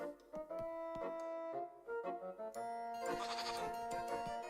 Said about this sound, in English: I heard a goat.